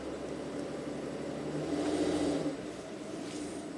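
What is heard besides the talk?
Ram ProMaster van engine accelerating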